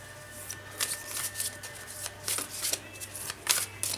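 Cards from The Universe Has Our Back oracle deck being shuffled, a run of quick papery riffling bursts close by, repeating unevenly over a steady low hum.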